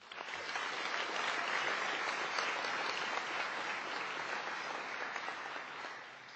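A large crowd at a 2015 graduation ceremony claps steadily, a dense wash of applause that swells quickly, holds for several seconds, then begins to thin out.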